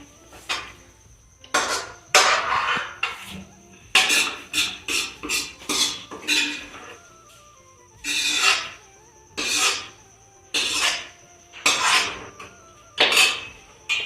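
Dishes, metal pots, bowls and cutlery clatter and scrape in a home kitchen during cleanup after a meal, in loud, close, irregular bursts of clinking and rattling with short pauses between them.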